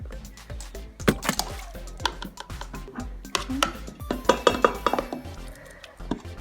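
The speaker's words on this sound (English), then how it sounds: "we're going to mix it all in a bowl" Cream cheese and crushed Oreo mixture being stirred in a bowl, a close run of irregular clinks, scrapes and taps of utensil on dish, fairly quiet and without talk.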